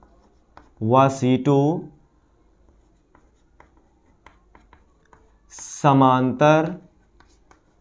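Pen or marker writing out a numerical physics solution on capacitors in parallel, faint scratchy strokes and ticks running between two bursts of someone speaking.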